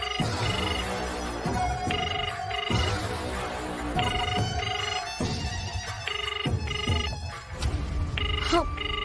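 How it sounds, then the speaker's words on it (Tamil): A telephone rings repeatedly in short double bursts while a call is placed, with the ringback tone loud and steady over background music from a Tamil TV drama scene. "நான் அண்ணனுக்கு ஃபோன் பண்ணி பாக்குறேன்"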